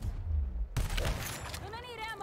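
Bursts of gunfire in the game Gears Tactics crack and rattle amid synthetic sound effects, with voices talking over the shooting.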